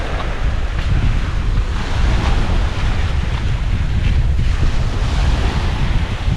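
Ocean surf washes and churns continuously at a dive site, loud and close, with heavy wind buffeting the microphone throughout.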